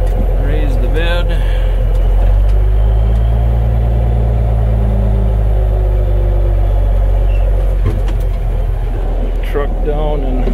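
A hay truck's engine runs steadily while the chain-mover bed is raised, a loud low rumble with a constant drone and occasional clanks, under a voice talking.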